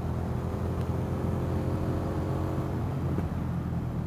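Indian FTR 1200 motorcycle engine running, a steady loud low rumble and drone held close throughout with no break.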